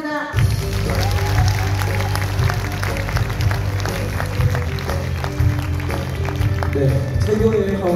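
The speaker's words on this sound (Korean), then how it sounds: "최고의 카운트를 해주신 송현아사님께 다시 한번 큰 박수 부탁드립니다" Applause from an audience at a Korean business seminar, honoring a speaker. Steady, dense clapping fills the whole stretch, loud and close, with no words spoken over it.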